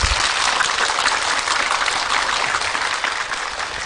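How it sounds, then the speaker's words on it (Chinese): A studio audience at a talk show on death breaks into sustained applause welcoming a Buddhist teacher, a dense, loud, even patter of many hands clapping that continues without pause and slowly fades slightly. "我们用掌声欢迎慈诚楼周刊部"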